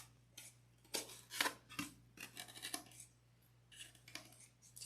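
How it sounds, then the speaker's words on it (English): Scissors cutting fabric all the way around a piece for no-sew penguin earmuffs, a series of faint close snips and crisp slicing strokes over a low steady hum. "And then we just cut it off all the way around."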